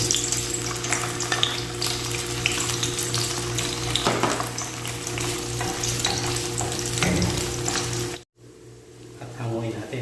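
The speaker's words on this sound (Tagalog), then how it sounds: "unahin nating iprito yung ating hotdog na pan-toppings" Hotdog toppings for pancit canton fry in a pan with a constant loud oily sizzle and crackle, stirred now and then, the sizzle briefly cutting out before resuming more quietly.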